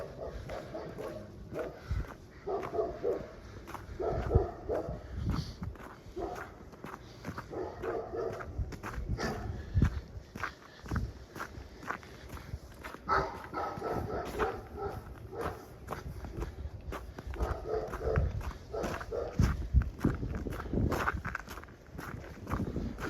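Dog in an outdoor setting, with scattered barks and yips mixed among crunching footsteps on a walk, irregular and moderately close.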